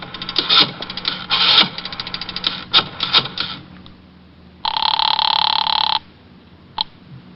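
An old-fashioned telephone bell rings from a radio drama, heard as rapid clattering bursts in an irregular rhythm, then one long steady ring lasting over a second and a final short jingle, loud and close with no talk.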